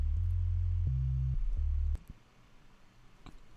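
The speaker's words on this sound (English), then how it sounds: "So now we just have a pure sine wave." A pure, low electronic tone holds steady, steps up in pitch, then drops back before cutting off abruptly, leaving near silence.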